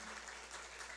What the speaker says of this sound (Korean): 한번 인사할 때 격려의 박수 한번 하겠습니다